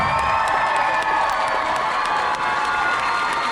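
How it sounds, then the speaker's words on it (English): An audience at a medieval dinner tournament in Dallas, Texas cheers and whoops continuously, a dense, loud wash of voices and clapping with children's shouts mixed in and no break for the full stretch. "Raise a cheer for Lord Cameron and his brave Squire."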